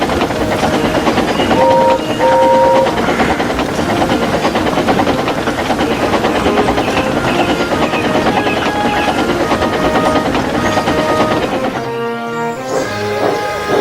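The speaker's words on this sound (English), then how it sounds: "The Express is a long, heavy train." A long, heavy express passenger train rumbles along steadily with a dense, continuous roar and rhythmic clatter, briefly joined by a horn-like tone; the noise eases near the end.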